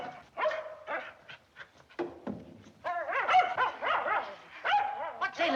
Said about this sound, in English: Let him howl if it makes him feel good.